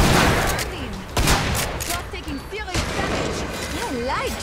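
Rapid gunfire from a first-person shooter game, Killing Floor 2, as weapons mow down zeds: dense bursts of shots with sharp impacts, loud and continuous, mixed with game sound effects and in-game voices.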